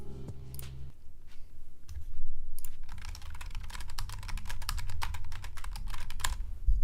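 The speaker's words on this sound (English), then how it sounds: "My real life keyboard sounds like this" Someone types steadily on a real computer keyboard up close, rapid irregular key clicks running continuously after a brief pause at the start.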